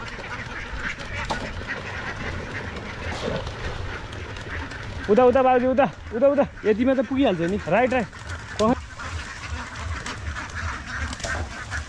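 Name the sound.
ducks quacking in a pond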